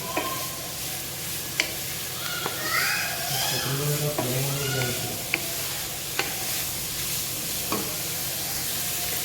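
Cabbage and capsicum being stirred in a hot pan for vegetable fried rice: a continuous sizzle with sharp spoon clicks against the pan at irregular intervals, while someone talks briefly partway through.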